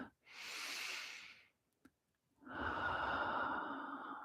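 A long, deep breath in a quiet room: a slow airy inhale, a pause with a faint click, then a heavier, fuller exhale. Close and alone, with no voices.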